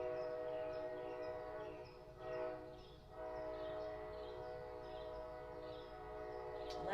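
A train passes at a distance, a low sustained rumble with steady tonal horn-like drones and faint rhythmic wheel clatter, quiet throughout.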